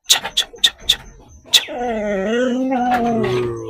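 A castrated male dog gives a few sharp yips, then a drawn-out wavering whimper close by.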